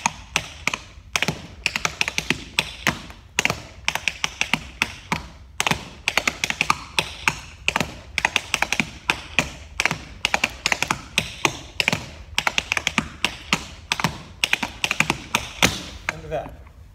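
Tap dance shoes perform a fast slurp back riffles exercise, a dense run of sharp, close metallic taps in quick rhythmic clusters with short pauses between phrases, continuing for the whole passage without talk.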